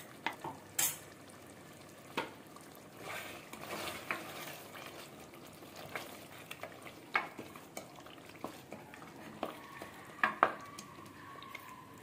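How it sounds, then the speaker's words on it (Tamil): Mutton chukka with ground masala is stirred in a pan with a spoon, giving soft intermittent scrapes and taps over a quiet, steady sizzle, close and fairly faint. "நல்லா கலந்து விட்டுக்குங்க."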